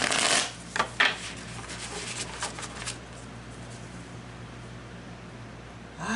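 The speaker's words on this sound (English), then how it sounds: "One more shuffle." Tarot cards are shuffled by hand close to the microphone, a quick series of riffling flutters and soft slaps during the first few seconds, then faint background hiss.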